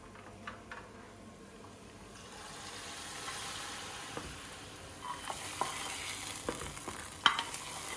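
Onion frying in a pan on a home stove for a dinner meal gives a soft, steady sizzle with occasional stirring scrapes and small clicks, faint and alone.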